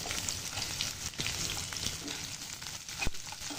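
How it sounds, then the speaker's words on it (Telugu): Sliced onions frying in hot oil with shahi jeera, a steady close sizzle with faint stirring knocks running through it. "ఈ ఆనియన్స్ కొంచెం గోల్డెన్ బ్రౌన్ కలర్ అయ్యే వరకు మనం వేయించుకోవాలి"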